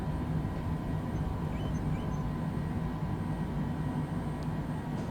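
Cessna propeller engine in a flight simulator game idling at low power while taxiing off the runway, a steady, even drone throughout.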